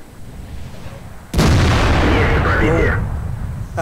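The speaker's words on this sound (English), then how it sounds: "You actually saw the penetration of the IS cannon, 400 lives gone in one shot." An IS tank's cannon in World of Tanks fires a single loud, sudden boom that rolls into a long rumbling decay lasting a couple of seconds.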